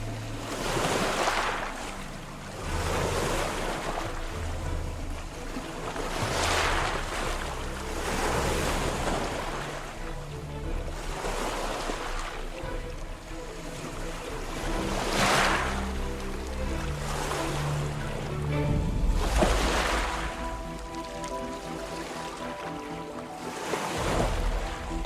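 Ocean waves surge and wash around a purse seine fishing boat at sea, rolling in regular swells with wind noise and a low engine rumble underneath, steady and close.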